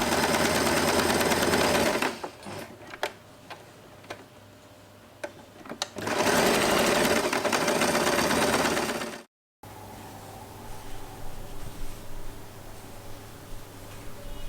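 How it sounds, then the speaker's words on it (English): A sewing machine running a straight seam on fabric, loud steady whirring bursts of stitching separated by a quieter pause with ticking clicks, then a brief silence and softer hum afterward. "Now we are going to join the other edge together and sew a straight line once again."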